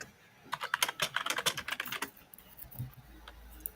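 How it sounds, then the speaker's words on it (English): Rapid, loud computer keyboard typing close to a microphone, a dense burst of clicks lasting about a second and a half before fading to a few scattered taps. "make your typing quieter somehow?"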